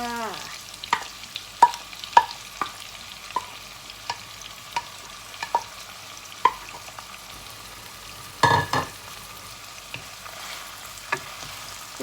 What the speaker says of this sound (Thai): เสร็จแล้วเราก็ใส่เนื้อปลาลงไปเลยค่ะ